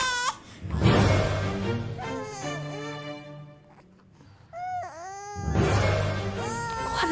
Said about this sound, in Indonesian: Kok ada suara bayi sih di tengah jalan kayak gini?